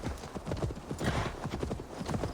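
Horse hooves clip-clop steadily in the Assassin's Creed Valhalla video game, several horses' footfalls overlapping in a dense rhythmic patter, with a whinny rising over the trotting and a voice speaking underneath.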